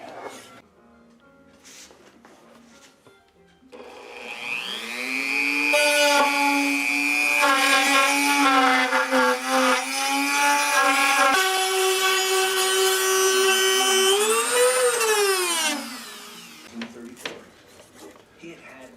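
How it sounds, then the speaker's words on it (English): A router cuts wood out of a Gretsch VanEps guitar body for a patch inlay, a loud sustained whine lasting about twelve seconds with a steady pitch, rising once near the end before winding down, with quieter handling noise before and after. "route away the wood and inlay the patch"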